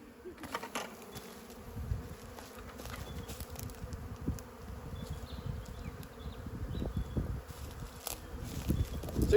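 Honey bees buzz steadily as a colony is shaken out of a nucleus box into a Flow Hive outdoors, a dense continuous hum close by with soft rustling and knocks, swelling slightly toward the end.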